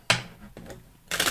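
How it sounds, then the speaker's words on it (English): A deck of playing cards riffle-shuffled by a card reader, heard as a loud burst of crisp fluttering card snaps, a softer riffle midway, then another strong burst at the end, with no talking. "Shuffle, shuffle, shuffle."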